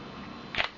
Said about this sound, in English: So I'm going to press the shutter button on my camera.